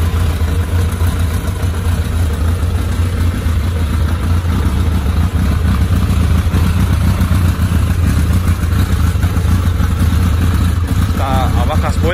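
A Suzuki GSXR 1100 motorcycle idles at low revs just after a cold start, its engine and exhaust making a steady, loud, continuous rumble throughout with no throttle changes.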